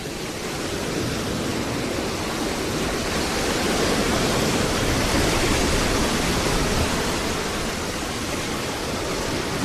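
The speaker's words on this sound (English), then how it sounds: "These waves can nail you," Steady broadband roar of ocean surf breaking on a beach near a campground, loud and continuous with no clear gaps between waves and no voices.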